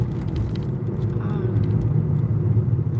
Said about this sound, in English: there's so much construction and traffic around here